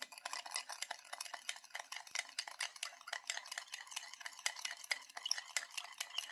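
A spoon stirs sugar into boiling water in a small bowl or cup for a nem dipping sauce, producing quick, regular scraping and clinking strokes, close and fairly quiet, with no talking.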